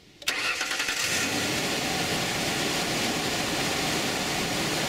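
A car engine cranks briefly on its starter motor, turned over with the ignition key, then catches and settles into a steady, loud running roar that lasts to the end.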